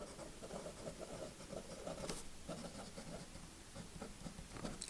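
A Kaweco Perkeo fountain pen writing in reverse on paper, a faint soft scratching of short strokes and pauses, quiet and close.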